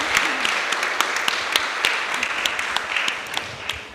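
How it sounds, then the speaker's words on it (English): Warm, dense applause for a speaker at a public forum on an education property-tax ballot question, sustained for several seconds with a few sharp individual claps standing out and faint voices beneath. "Let's all give him a round of applause."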